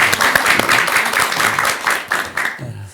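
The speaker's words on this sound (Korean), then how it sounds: "큰 박수 부탁드립니다" Audience applause at a Buddhist television talk show, a dense steady clapping that carries on for a few seconds before trailing off near the end.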